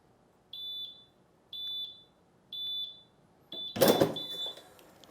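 A GeoKnight heat press timer alarm gives four evenly spaced high electronic beeps, each a short double chirp, with a louder clattering rush breaking in over the last beep.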